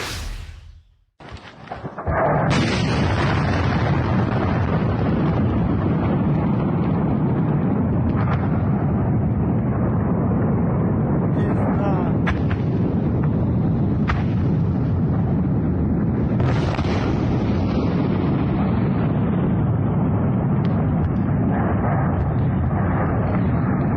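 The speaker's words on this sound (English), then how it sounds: "Let's have a look at footage of this massive explosion." Massive explosion from a missile strike on a Ukrainian ammunition dump: a sharp blast onset followed by a sustained, loud, deep roaring rumble with crackling secondary bursts throughout, heard from a distance with no talk.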